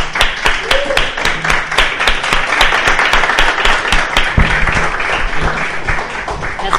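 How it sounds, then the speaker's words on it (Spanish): A startup-event audience in Santiago applauds to welcome a cofounder to the stage, a loud, steady burst of many hands clapping that fills the whole stretch without pause. "Así que todos démosle un aplauso."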